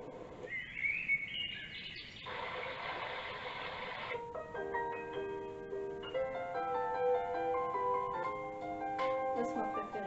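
Electronic birdsong plays from a small sound box, bright chirps and trilling notes in a steady, slightly artificial stream.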